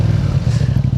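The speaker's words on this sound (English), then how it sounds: "Got that mic on the back so that you guys can hear my exhaust." A 2025 Yamaha MT-07 with a Yoshimura R77 full exhaust system rumbles loudly and close, a deep throbbing pulse of rapid low exhaust beats at steady speed, with no voices.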